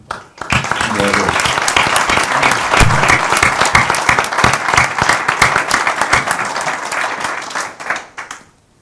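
Audience applause at a public forum on terrorism's impact on the Basque economy: dense, sustained clapping from a large crowd, loud and steady for several seconds before tapering off, with a voice briefly audible over it.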